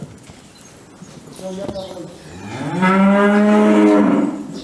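Calves on a Turkish livestock fattening farm moo loudly in a long, drawn-out call near the end, with someone speaking over scattered shuffling and movement beforehand.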